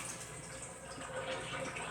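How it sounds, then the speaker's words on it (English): Water being poured off peeled potatoes soaking in a pot, a faint steady trickling and splashing flow heard close up without any talk. "I'm going to go ahead and drain this water off real quick"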